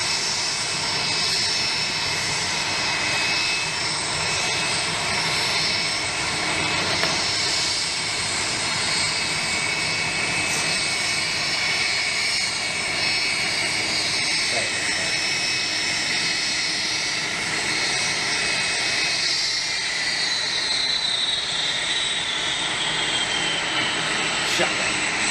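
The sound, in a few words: jet airliner with Rolls-Royce RB211 engines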